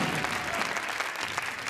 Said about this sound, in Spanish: bajo la dirección de Rosario Pascal, para quien pido un aplauso, por favor.